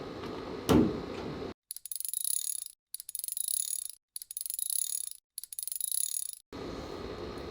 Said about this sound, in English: I find it easier to get the outside screws started first,